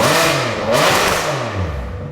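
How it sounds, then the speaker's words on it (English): A Ferrari 599 V12 engine revs hard and roars loudly, its exhaust note rising and falling close by with no talking. "what isn't dumb is the exhaust note"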